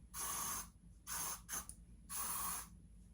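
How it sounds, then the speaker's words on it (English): Hairspray hisses from an aerosol can onto hair in four close bursts of varying length, the longer ones around half a second, with quiet pauses between. "You're gonna add hairspray, of course."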